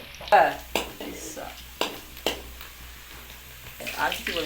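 Onions fry in oil in a pan under faint sizzling while a spoon scrapes and knocks against the metal in a few sharp separate strokes, close and fairly quiet.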